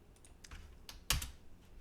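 A handful of quick, soft keystrokes tap on a computer keyboard while a command is entered in Rhino 3D, close and quiet, ending in one firmer press.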